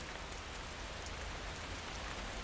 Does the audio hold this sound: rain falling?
yes